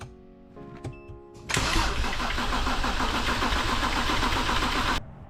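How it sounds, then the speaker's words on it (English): A BMW N54 335i with its injectors unplugged is cranked on the starter: a few short clicks and whirs, then about three and a half seconds of loud, steady cranking churn that stops abruptly, with no voices. "attempt to start the car, letting the starter and the motor turn over so we can prime the turbos with oil"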